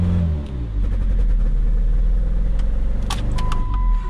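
A 2015 Jeep Patriot engine runs and revs right after throttle body work, giving a loud, close, steady rumble with a rising rev and a brief high squeal near the end.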